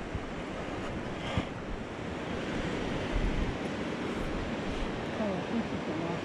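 A river flowing beside a foothills trail, a steady broadband rush of moving water mixed with light wind buffeting the microphone, fairly soft and unbroken.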